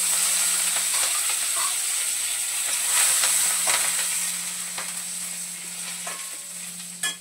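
Mustard seeds, cumin, garlic and curry leaves sizzle steadily in hot oil, a dense close frying hiss that holds evenly throughout, with a faint low hum beneath and a brief sharp pop near the end.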